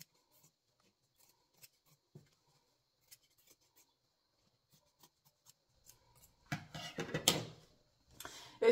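Scissors snip through fabric around the edge of an embroidery hoop during finishing, with faint scattered clicks and then a few louder close cutting bursts near the end.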